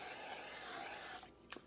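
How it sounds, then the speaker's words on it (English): Cooking spray hisses onto a pan in one sustained burst of about a second, close and fairly loud, then cuts off, followed by a faint clink. "we're going to spray our pan"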